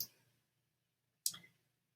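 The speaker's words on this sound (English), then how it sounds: "And I'm going to click start." A single crisp mouse click sets off a Screencast-O-Matic screen recording, heard close and alone in a quiet room, with a faint tick just before.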